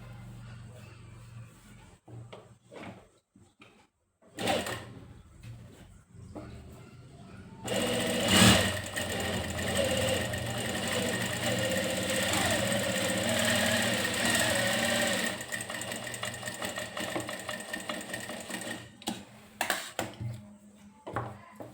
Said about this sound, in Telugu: మళ్ళీ ఎడ్జ్ కుట్టేసి రావాలి